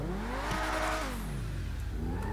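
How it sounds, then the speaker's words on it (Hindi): A damaged car engine in GTA 5 revs hard, with a rough, tractor-like rising and falling drone close up over about two seconds, no talk. "ओ ट्रैक्टर जैसे आवाज़ कर रही है भाई गाड़ी।"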